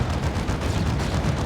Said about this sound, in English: Predator's taking some plasma cannon hits.